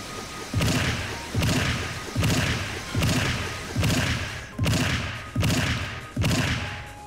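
Gum Gum Gatling attack in the Roblox One Piece game OPPL, eight heavy whooshing thumps landing in a steady rhythm about once per second, loud and close.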